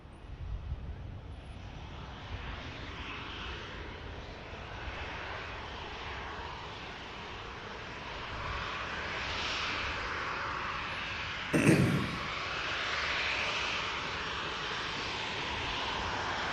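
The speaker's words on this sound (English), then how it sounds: "Should get off in front of us, this Ryanair." A Ryanair jet airliner taking off at Manchester Airport, heard as a faint, distant engine rumble that slowly swells and holds, with a brief sharp click partway through.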